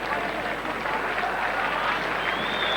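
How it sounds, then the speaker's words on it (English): A rugby league crowd at Canberra versus Great Britain on the 1992 tour gives steady, sympathetic applause as an injured player is stretchered off, a distant wash of clapping under commentary. "as he goes off on the stretcher to sympathetic applause"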